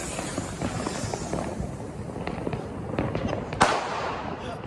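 Diwali sky rocket firework (hawai) going off outdoors amid festive crackers, with a crackling burst and a sharp pop near the end over steady background noise of other fireworks and distant bangs.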